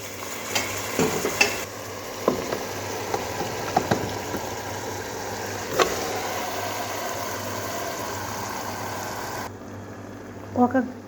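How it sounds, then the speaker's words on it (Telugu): Tomato pieces sizzle steadily in a hot pan with softened onions while a utensil clinks and scrapes against it in scattered knocks, with louder clatters at the end. "ఉల్లిపాయలు మగ్గిపోయి ఇప్పుడు టమాటా ముక్కలు వేస్తున్నాను."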